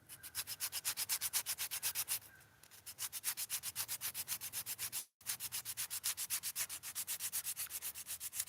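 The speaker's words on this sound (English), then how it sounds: "So let's sand it up." Sandpaper rubs back and forth over a carved hackberry wood spoon in quick, even strokes, a steady rasping rhythm with a short pause partway through and a brief break near the middle.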